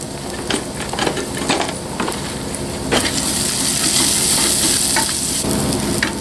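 Onions sauté for French Cajun chicken, a loud, close, continuous sizzle with scattered clacks of the stirring utensil against the pan, growing fuller toward the end.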